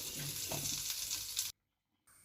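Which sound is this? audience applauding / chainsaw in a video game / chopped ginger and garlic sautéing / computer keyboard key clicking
chopped ginger and garlic sautéing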